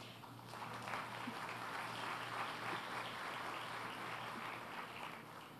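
Applause for the press at a political presentation event, a broad, steady wash of clapping heard at a distance and fairly faint, lasting several seconds.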